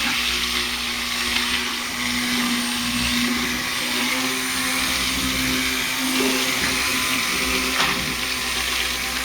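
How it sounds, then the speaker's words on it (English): A stick blender whirs steadily as lye solution is mixed into coconut oil soap, a continuous close motor drone with a constant pitch that holds evenly throughout. "So I'm going to start to stick blend"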